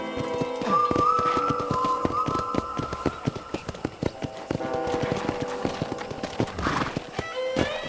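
Steady clip-clop of trotting horse hooves near a ranch corral in Red Dead Redemption, brisk and even, with a brief bright tone and clatter around it; no talking.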